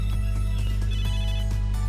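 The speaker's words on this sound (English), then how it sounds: "That's my N-Gear's ringtone, but I don't have a reception here at all" An N-Gear phone ringtone from the Megadimension Neptunia VIIR video game plays as a loud, repeating electronic chime pattern over a steady low hum.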